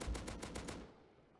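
A short, quiet burst of AK rifle fire in the survival game Rust: about five rapid shots in an even automatic rhythm, then a brief fading tail, with no talking.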